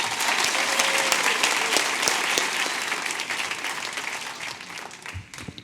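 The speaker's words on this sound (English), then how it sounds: "would you please join me in a round of applause for Jack?" An audience at a business breakfast event bursts into sustained applause, a dense wash of clapping that holds steady for several seconds and then gradually thins out toward the end.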